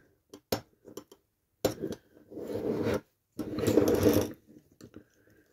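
A screwdriver pries and scrapes at parts of a diecast Corgi Major Mack crane truck during restoration, with sharp metallic clicks followed by two longer grinding, rasping bursts, close and alone.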